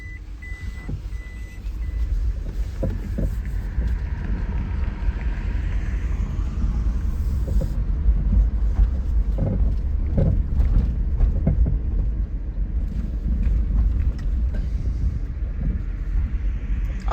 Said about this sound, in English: When the engine started, that's kind of neat.